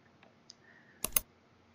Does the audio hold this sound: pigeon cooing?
no